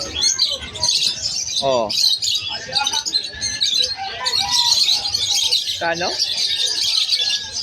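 Albino Opaline lovebirds at a bird seller's in Malabon chirp and tweet in a busy, continuous chorus of high calls, with a few louder squawks and people talking nearby.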